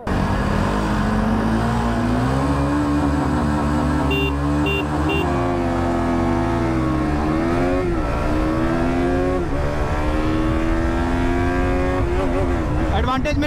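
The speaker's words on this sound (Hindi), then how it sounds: "तो चलिए अब हम चला रहे हैं KTM RC" A 2022 new-model KTM RC 200 motorcycle is ridden hard in a long race, its engine loud and close, revving continuously with pitch that climbs, dips and climbs again through gear changes.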